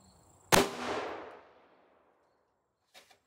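A single sharp shot from a Rossi RP63 .38 Special revolver with a 3-inch barrel firing a Hornady 125 grain XTP load outdoors, a loud crack followed by a decaying echo, then faint handling sounds.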